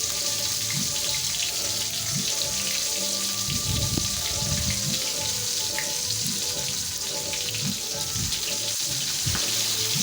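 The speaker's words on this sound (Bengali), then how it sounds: "মাছটা ভাজা হচ্ছে।" Fish, head included, frying in hot oil in a pan during home cooking, giving a steady broadband sizzle and hiss with irregular low crackles and spatters throughout, no speech.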